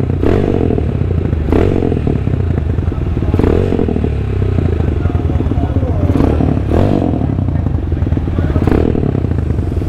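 A motorcycle fitted with an Orion muffler revs hard in several loud, close bursts spaced a couple of seconds apart over a rumbling idle, with a voice speaking between them.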